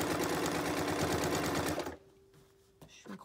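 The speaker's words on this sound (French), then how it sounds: "je couds sur toute la longueur" A sewing machine stitches the full length of a gardening apron seam, a close, dense mechanical whir for about two seconds before stopping abruptly, leaving faint handling noises.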